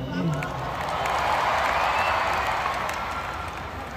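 A concert crowd at the Puregold OPM Con 2025 applauds and cheers in a dense, steady roar of clapping and voices that stays loud and close throughout.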